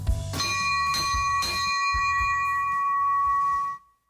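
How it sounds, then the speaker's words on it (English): A bell rings out in several clear struck tones with long sustained metallic overtones that overlap and ring on, loud and close, then cut off abruptly at the end. "help children continue to ring the bell"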